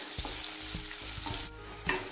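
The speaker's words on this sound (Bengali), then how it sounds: "পেঁয়াজটা হালকা করে ভেজে নেব" Two tablespoons of chopped onion fry lightly in a kadai with bay leaf and whole spices for vegetable pulao. A steady close sizzle runs throughout, broken by regular stirring scrapes, with no talk.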